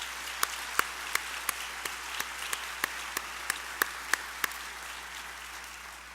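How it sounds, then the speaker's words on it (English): Applause at a plenary session of a 2012 cystic fibrosis conference, heard as faint, evenly spaced claps that tick along at a steady rhythm over a quiet room hum. "Would you please join me in a round of applause in recognition of their outstanding work?"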